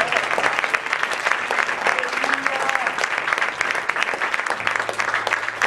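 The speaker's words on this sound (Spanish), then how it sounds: "Fuerte el aplauso al Señor." Church congregation applauding during a worship service, a loud, sustained and dense crowd clapping with faint voices mixed underneath throughout.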